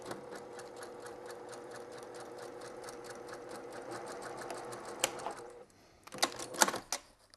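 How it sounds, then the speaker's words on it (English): A sewing machine runs in a rapid, steady stitching rhythm while it sews down the folds of a one-yard skirt, then stops with a few short clicks and thumps near the end. "I'm going to sew down both of those folds I've created."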